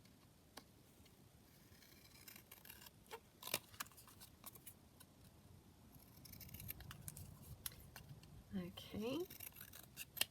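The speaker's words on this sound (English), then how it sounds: "so we're just going to cut some out here" Scissors snip through paper while tiny tags are cut out in bulk, giving soft, irregular crisp cuts close by, with a person talking over part of it.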